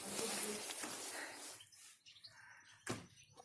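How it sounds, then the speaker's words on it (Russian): Small birds chirp faintly outdoors in a natural setting, a few brief tweets over a soft rustling background that quiets midway, with one louder burst near the end. "Птички там, да? Птички тебя дразнят опять?"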